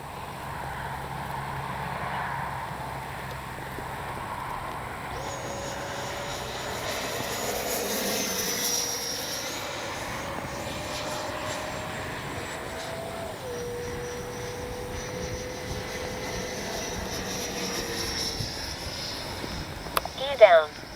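A Freewing F9F-8 Cougar RC jet's ducted fan drones steadily overhead, its pitch sliding as it passes at a moderate distance, with outdoor ambience and brief voices near the end.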